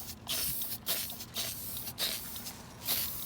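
Rust-Oleum Universal Clear Coat aerosol hisses in four or five short sprays applied to a TTR125 motorbike part during its build, each burst close and loud with brief gaps between.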